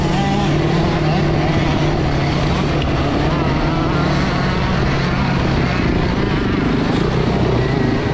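The modified Yamaha Serow trail motorcycle idles roughly during a hard enduro event, giving a loud, close, buzzing engine drone that runs steadily throughout while a voice talks over it.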